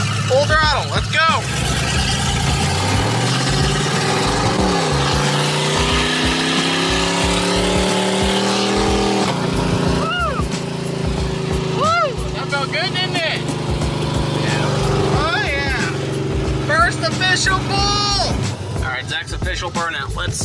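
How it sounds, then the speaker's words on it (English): An LS-swapped Ford Edge accelerates hard at full throttle, the V8 climbing in pitch through gears with a loud roar, while people talk and shout over it. "It's gonna be your second official drive of the LS swap new Edge, but this time we should have full throttle"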